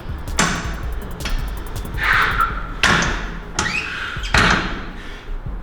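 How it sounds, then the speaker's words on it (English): Workout bench being moved around a home gym floor, several heavy thuds and knocks spaced about a second apart with scraping between them, close and fairly loud. "I'm gonna move this bench."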